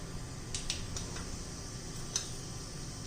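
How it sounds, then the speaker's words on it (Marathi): Mustard seeds crackle in hot oil for a tempering, with a few sparse, quiet pops scattered over a low background hum. "छान अशी मोहरी आपल्याला तडतडून द्यायची आहे"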